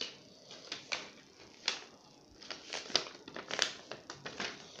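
Paper being folded into a paper plane: sharp crinkles and creases repeating close by at an irregular pace, quiet and without talk.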